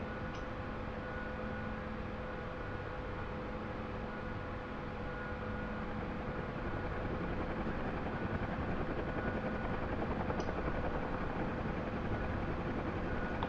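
A Huey gunship helicopter flies at low speed, about 20 knots near 50 feet, its rotor and turbine making a loud, unbroken droning roar throughout.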